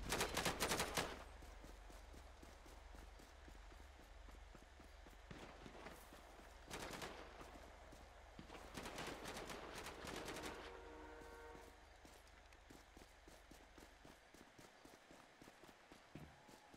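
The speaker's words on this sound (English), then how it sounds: "Shots fired, shots fired." Gunfire in a police roleplay video game shootout beside a train track, several sharp bursts of shots with a steady rumbling train noise under them, and the rumble fades out near the end.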